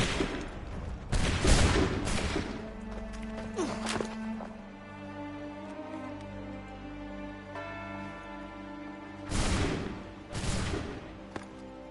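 Musket volley fired on command in Assassin's Creed III, several sharp bursts of crackling gunfire in two clusters, the first near the start and another after a quieter stretch of droning background tones and faint clatter.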